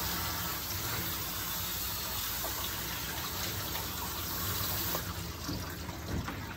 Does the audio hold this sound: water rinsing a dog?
yes